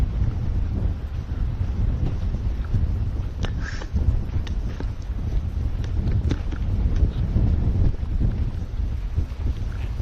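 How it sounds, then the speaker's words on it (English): Strong wind buffeting the microphone in a continuous low rumble, gusty and loud throughout, with no voices, at Mackay Beach, Queensland. "Bit windy."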